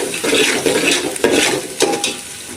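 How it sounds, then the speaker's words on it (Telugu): Onions frying in a pan while chicken biryani is made: a loud continuous sizzle up close, broken by several stirring scrapes of a utensil against the pan, without speech. "ఉల్లిపాయలు ఇప్పుడు చూడండి ఉల్లిపాయలు కూడా వేగినాయి కదా"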